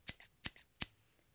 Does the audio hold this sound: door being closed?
no